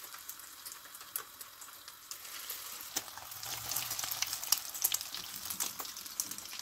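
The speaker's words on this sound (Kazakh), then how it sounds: "Енді біз бұны майға кішкене қуырып аламыз." Börek pieces wrapped in egg fry in hot oil in a pan, giving a steady close sizzle with scattered sharp crackles and pops that grow busier toward the end, with no voices.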